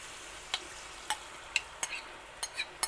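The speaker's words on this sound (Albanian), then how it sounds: "Po në këtë tigan, janë domatet e perera në copat vogla." Chopped tomatoes cook in a frying pan, with a soft, steady sizzle broken by about seven sharp scrapes and taps of a utensil against the pan at irregular intervals, close up and with no talking.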